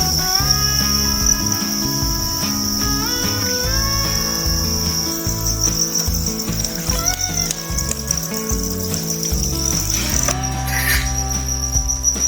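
Dense, continuous chirping from a mass of farmed crickets fills the space at a steady loud level, a constant high whine layered over a low mechanical hum with no voices.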